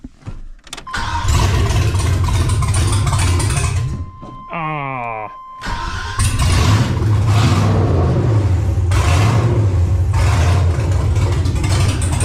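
An LS-swapped car with a stage 2 cam and open manifolds cranks to life and revs hard, a loud rough roar that drops briefly around a whining pause before surging again, with a voice exclaiming once.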